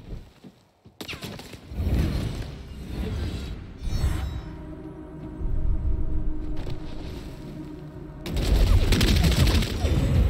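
Gunfire in the Vampire: The Masquerade video game, with bursts of shots and impacts among rumbling game noise, building to a loud dense volley near the end.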